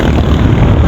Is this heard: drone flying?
yes